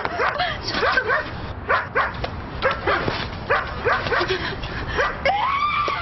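A dog barks and yips repeatedly in quick, uneven bursts close by, with some whimpering mixed in.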